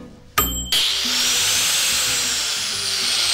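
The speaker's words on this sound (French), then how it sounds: "je scie mes joints de retrait" A sharp burst of noise is followed by a loud, sustained high-pitched grinding whine of a saw cutting control joints into a cured concrete patio slab, steady and close.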